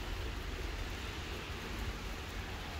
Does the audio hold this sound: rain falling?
yes